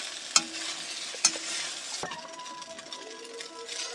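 Chira pulao (flattened rice) being stirred in a pan with a utensil, giving a couple of sharp scrapes and clinks over a low, steady sizzle, close and moderately quiet.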